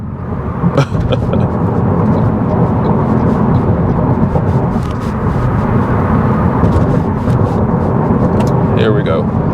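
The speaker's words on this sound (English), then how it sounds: "I'm just going to floor it so you can hear." A 2024 Toyota Prius Limited with a 4-cylinder engine and eCVT accelerates at full throttle, a loud, steady engine and road roar heard from inside the cabin throughout.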